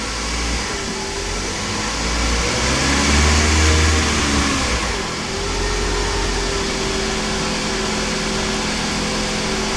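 A 2009 Toyota Camry Hybrid showing hybrid system faults revs its gas engine as the accelerator is pressed, a steady mid-pitched hum that swells for a couple of seconds and then settles back to a constant drone.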